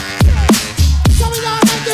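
A hip hop mashup track playing, with punchy booming kick drums on a steady beat and a short melodic line between hits, loud and up front.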